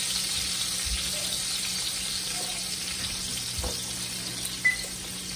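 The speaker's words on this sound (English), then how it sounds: "I'm sizzling the whole time." Steak fries in a hot pan with a soft, even sizzle and faint crackles, quiet and close, broken near the end by a brief clink of metal, with no voices.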